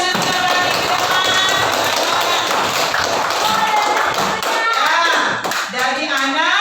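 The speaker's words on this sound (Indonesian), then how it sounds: "Tepuk tangan dulu Olin karena sudah berani ke depan." A classroom of children claps together for a classmate, a dense, steady patter of hand claps close by that continues for several seconds with voices mixed in, then thins out as children's chatter takes over.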